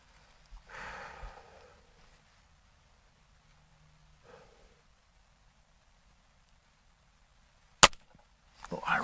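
A Gamo Swarm Magnum Gen 3i air rifle fires a single sharp, loud crack near the end of an otherwise quiet stretch that holds soft rustling and breathing.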